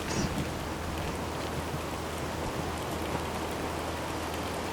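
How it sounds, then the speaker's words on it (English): Rain falls steadily during a long road bike ride, a dense, even hiss close up with wind noise underneath, continuous and fairly loud, with no talking. "It's just a bit of rain."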